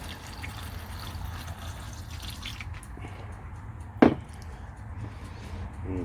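Liquid for a honey maple bourbon batch is poured into a container: a steady, low trickling wash for a few seconds, then quieter, with one sharp knock near the end.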